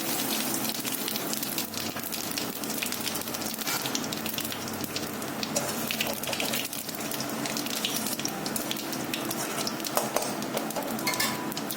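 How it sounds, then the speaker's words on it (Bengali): Fennel seeds and bay leaf sizzle steadily in hot oil for Bengali vegetarian cooking, a continuous crackling hiss with faint clinks of utensils throughout and no talking. "তেলটা গরম হয়ে গেছে, এর মধ্যে দিয়ে দিচ্ছি মৌরি আর তেজপাতা।"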